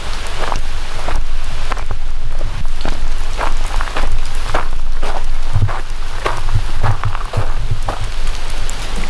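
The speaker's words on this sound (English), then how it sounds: "It's really starting to rain." Heavy rain pours outdoors at a remote hilltop church site, a steady dense patter on surfaces with sharper drops striking nearby, continuous and fairly loud with no voices.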